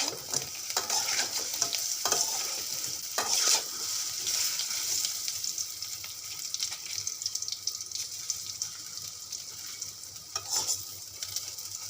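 Masala pitha stirred in a hot pan, a continuous close sizzle with scraping stirring strokes and occasional bubbling, wet frying texture.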